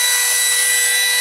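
A Dremel rotary tool fitted with a 1/8 inch bit drills steadily, a high continuous whine with a bright grinding edge, loud and close for the whole brief moment with no talk.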